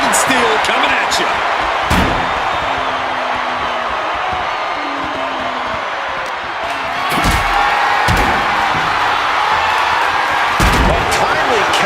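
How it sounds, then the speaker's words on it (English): Wrestling video game match with a wrestler slammed onto diamond-plated steel steps, several heavy slam thuds punctuating steady loud arena crowd noise throughout, with commentary voices over it. "You heard the thud on the steps."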